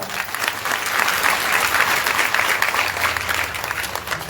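An audience claps loudly and steadily at a religious gathering, a dense burst of applause that carries on without a break.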